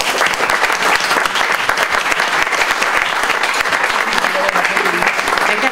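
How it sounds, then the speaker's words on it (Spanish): Loud, dense applause from a large audience at a public forum on poverty and inequality in Mexico, steady clapping sustained for several seconds without a break. "Pues les pido por favor un fuerte aplauso para Gonzalo."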